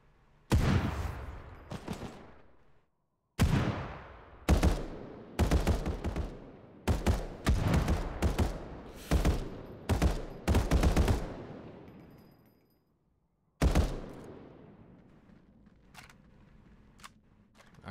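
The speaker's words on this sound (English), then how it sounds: "Opening fire." Gunfire in the video game Final Fantasy VII The First Soldier: a string of loud, close bursts and single shots in irregular clusters, separated by short gaps and ending in one last blast that rings off.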